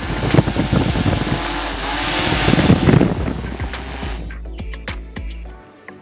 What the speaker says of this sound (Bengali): এখন ড্রোনটাকে আমি আমার হাতে ল্যান্ড করাবো।